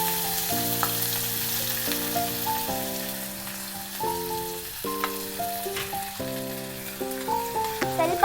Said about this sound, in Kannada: ಈಗ ಈರುಳ್ಳಿ ಸ್ವಲ್ಪ ಫ್ರೈ ಆಯಿತು